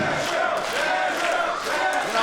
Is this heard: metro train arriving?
no